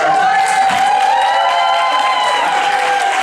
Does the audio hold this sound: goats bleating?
no